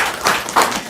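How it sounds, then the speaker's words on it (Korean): A lecture audience applauds with broad, uneven clapping that swells in waves, heard close. "와, 이분들께 박수."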